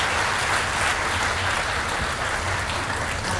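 An audience at a local mayoral candidates' policy presentation gives steady, dense applause that continues at even loudness throughout.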